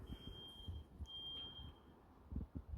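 A steady high electronic beep from an alarm going off somewhere nearby, sounding in two long sustained tones over a quiet sunny courtyard with low rumbling background noise.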